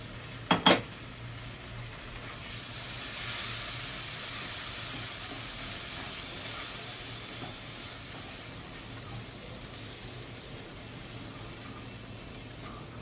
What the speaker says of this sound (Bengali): মিনিট 2 আমি এটাকে নাড়াচাড়া করে যাচ্ছি।